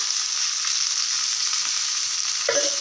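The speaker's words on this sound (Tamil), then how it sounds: "எண்ணெய் ஃபஸ்ட்டே ஊற்றி சூடு பண்ணி வச்சு நம்ம மீனை பொறிச்சு எடுத்துக்கலாம்." Fish frying in hot oil, a dense continuous sizzle close up and fairly loud, with a faint clink near the end.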